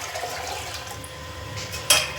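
Water is poured into a pressure cooker for cooking rice, a steady splashing trickle of moderate loudness that ends with a short louder splash near the end.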